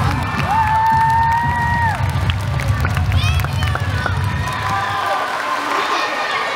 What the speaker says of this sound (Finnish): Annetaan aplodit Joonalle kanssa.